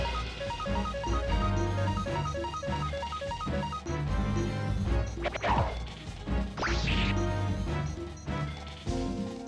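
The Rock Buster attack in the game Suikoden plays as loud crashing, whacking impacts and sweeping effects over busy in-game music, with no voices.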